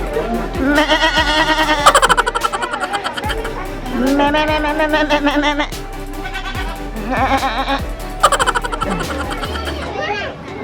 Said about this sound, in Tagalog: Ito na mga kambing.